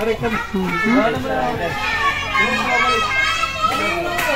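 Rural children in a provincial village play noisily around a washing area, their shrill overlapping voices, shouts and chatter filling the space close by and without pause.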